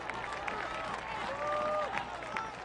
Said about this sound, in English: Josh Cohen receives a round of applause for his solid effort in goal.